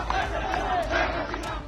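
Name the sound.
protesters chanting slogans in support of Sheikh Hasina, Dhaka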